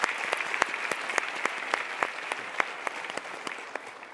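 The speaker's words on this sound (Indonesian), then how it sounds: "kita berikan tepuk tangan untuk mereka" Studio audience clapping on a televised motivational talk show, fairly sparse with distinct individual claps ringing out over a softer bed of applause, steady and moderately loud throughout.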